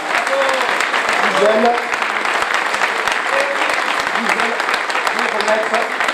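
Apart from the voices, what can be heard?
audience applause at a medal ceremony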